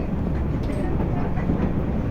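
Steady low rumble and rattle of rail noise inside a moving commuter train between Jundiaí and Perus, continuous and fairly loud throughout with no distinct breaks.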